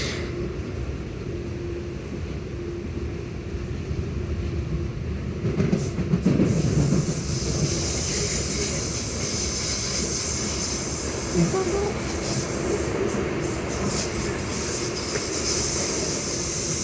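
Southeastern train running from Charing Cross towards Sevenoaks, passing through St John's: a steady, loud rumble of the rolling carriage with faint rail clatter throughout, and a brief louder surge midway.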